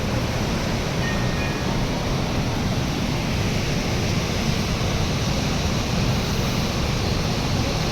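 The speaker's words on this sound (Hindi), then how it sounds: "कितना वेग में पानी आ रहा है, तभी तो इनको इतना शोर।" Steady, loud rushing of fast-flowing river water near Badrinath, a continuous broadband roar with no pauses and no voices.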